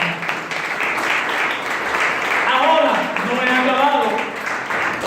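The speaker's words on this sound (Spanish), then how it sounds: "¿Quién le da un aplauso al Señor?" Church congregation applause during a sermon, a broad wash of clapping that swells in the middle, with voices speaking and calling out over it throughout.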